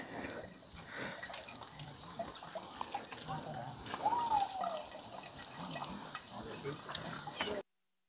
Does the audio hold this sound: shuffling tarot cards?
no